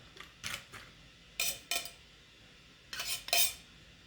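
Ingredients dropped into a copper mug for a Moscow mule give several sharp metallic clinks and clatters, close and fairly loud, arriving in short clusters separated by quiet gaps.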